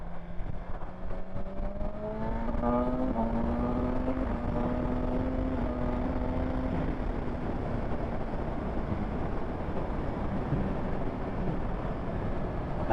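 A BMW M1000R Competition motorcycle engine revs up on the road, its pitch climbing through a quick-shifted gear before settling into a steady high-speed roar with wind rush, heard close from the rider's position.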